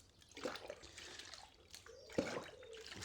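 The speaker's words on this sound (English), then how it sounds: "now I'm rinsing this tube out in the water." A tube being rinsed out in water during a film-cleaning test, with soft splashing and trickling through a short stretch, a brief louder slosh near the end, close and fairly quiet.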